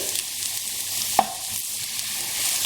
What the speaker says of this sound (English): we're going to just cook out the spices for about a minute or so